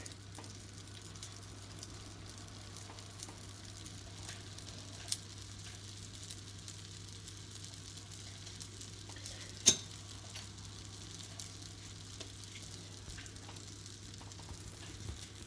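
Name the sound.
crepe batter sizzling on a crepe pan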